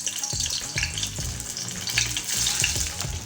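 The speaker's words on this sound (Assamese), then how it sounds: "এয়া আমাৰ আলুখিনি ফ্ৰাই কৰা হৈ গ'ল" Boiled potatoes frying in hot oil for dahi aloo, a steady crackling sizzle with bubbling spits and occasional stirring scrapes, close and continuous with no talk.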